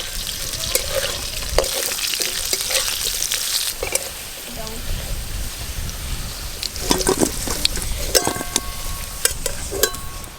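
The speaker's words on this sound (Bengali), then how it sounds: "ওই মাছ ভাজার তেলে আমি আলুগুলো ভেজে নেব।" Potatoes fry in oil left over from frying fish, a close, dense sizzle mixed with water-like splashing and clinks of a utensil against the pan.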